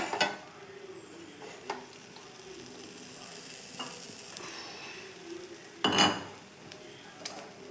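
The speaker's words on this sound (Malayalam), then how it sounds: "കടുക് വറുക്കാനായിട്ട് പാത്രത്തിൽ അടുപ്പ് വെച്ചിട്ടുണ്ട്." A pan on a stove, set up to fry mustard seeds, gives quiet metallic clinks and scrapes from a utensil, with a sharper clatter near the end over a faint low background.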